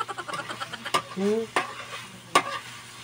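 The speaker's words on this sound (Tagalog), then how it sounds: "So, halu-haluin lang natin." Anchovy adobo (adobong dilis) frying in a pan and being stirred, with a few sharp utensil scrapes and clacks over a steady low sizzle, close and clear.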